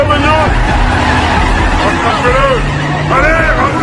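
A stolen car speeding away in a western film, with engine and tire noise that may include skidding, loud and continuous under a busy mix of shouting voices and crowd babble.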